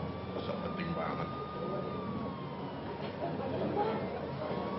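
An ambulance siren holds a steady, slowly falling tone through a crowded scene where ambulances come and go, with murmuring voices and general crowd noise underneath.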